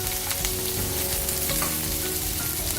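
Potato and brinjal sizzle hard in oil in a pan, a loud, dense, steady frying hiss with faint stirring scrapes and no voices.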